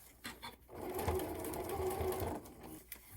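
A sewing machine stitching a fabric carry-all case with an inner lining runs in one steady burst of about a second and a half, a close, even mechanical whir between brief handling noises.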